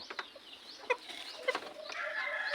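A Texas green-legged gamefowl rooster gives a few short, close clucks, spaced irregularly and then running together into a brief continuous call at the end.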